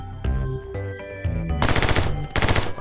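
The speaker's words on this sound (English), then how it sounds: "What happens if I shoot shit?" Rapid automatic gunfire in the action video game My Friend Pedro, starting as sparse shots over game music and then swelling into dense, loud bursts of repeated shots, with no talking.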